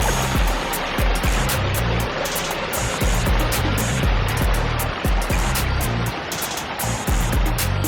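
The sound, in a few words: backyard koi pond waterfall and stream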